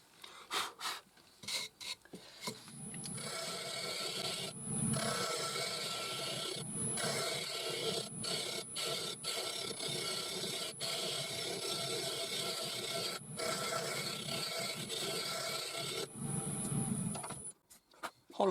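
A hand tool rasps steadily inside a wooden Anglo-Saxon style chalice as it is hollowed out, making a continuous scraping and rubbing sound broken by a few short pauses.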